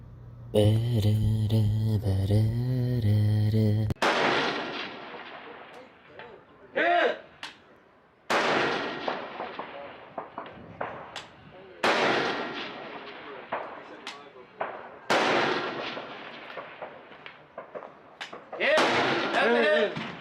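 An AK74 rifle fires at long-range steel targets during a carbine match, each shot a sharp loud crack with a long rolling echo, spaced several seconds apart. Voices are heard at the start.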